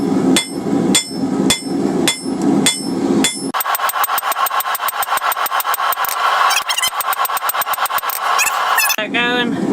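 Sharp, loud hammer blows ring out as metal is forged and drawn out for a heart-shaped plant hanger, a few spaced strikes giving way to a fast, steady run of rapid ringing hits.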